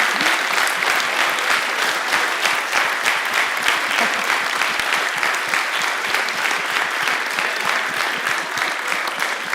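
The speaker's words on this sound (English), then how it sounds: "Can we have a round of applause for that?" An audience at a panel conversation with Mark Rutte and Justin Trudeau gives sustained, loud, even applause, a dense wash of many clapping hands that holds steady throughout.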